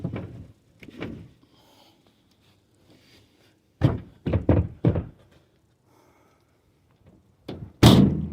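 Doors of a 2014 Chevy Express 3500 camper van thud and clunk shut in a loose series of separate hits, several close together mid-clip and a louder slam near the end, with quiet gaps between and no talking.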